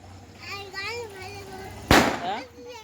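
A single sharp firecracker burst goes off during Diwali festivities in the rural village of Antarwali Sarati, a loud close crack amid children's chatter, with people talking before and after.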